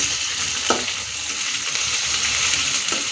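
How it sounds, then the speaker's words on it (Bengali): Onion, garlic and cumin paste fry in a pan, giving a close, continuous sizzle with a few brief scraping stirs and no talking. "একটু হালকা ভেজে নেব ভেজে এরপরে গুঁড়া মশলাগুলি দিব মশলাগুলিকে ভেজে নিচ্ছি"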